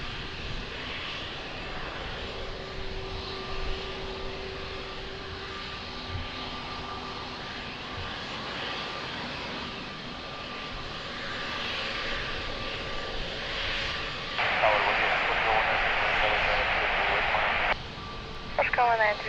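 A fixed-wing airliner on short final for runway 02 at Lisbon Airport hums faintly in the distance, its engine drone growing louder and rougher toward the end, under intermittent tower radio chatter.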